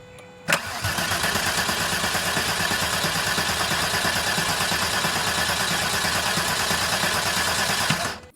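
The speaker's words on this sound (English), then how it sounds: "So this is gonna be first crank after a full rebuild" A rebuilt VR6 turbo engine cranks for the first time after a full rebuild: a sharp starter burst, then a loud, steady running drone that holds evenly for about seven seconds before cutting off.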